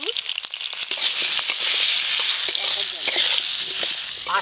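Cut mango pieces sizzle and crackle in hot mustard oil with dried chilli and panch phoron, a bright steady frying hiss with scattered pops and stirring scrapes, loud and close throughout.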